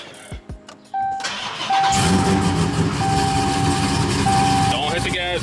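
A Chrysler 300 with a Hellephant engine starts after an oil change: a few clicks, then the cranking catches into a loud, steady idle rumble that fills the rest of the moment.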